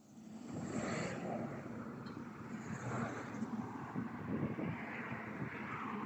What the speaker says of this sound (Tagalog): Ngayon, may pumataas na eroplano.